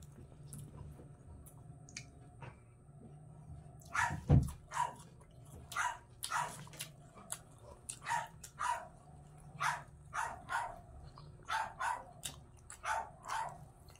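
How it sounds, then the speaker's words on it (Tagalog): Puppies bark in short, repeated yaps from a neighboring yard, one loud close yelp followed by a steady run of sharper barks at moderate distance over quiet background. "Maingay sila kasi may yung kapitbahay namin. May alagang ano, mga tuta."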